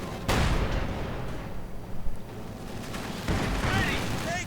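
Mortar fire in a World War II real-time strategy game, deep booming launches and distant explosions rumbling under game ambience and battle noise, with a commentator's voice faintly present.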